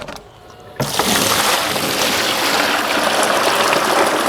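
Ordinary household tap water is poured into a container for hydro dipping, starting abruptly after a short quiet moment and then running as a steady, close, splashing gush to the end.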